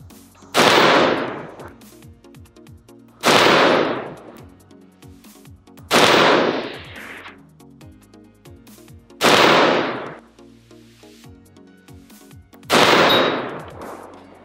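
Five loud, sharp rifle shots from a Stag Arms 10S .308 AR-10, fired one at a time a few seconds apart, each with a ringing decay, no talk.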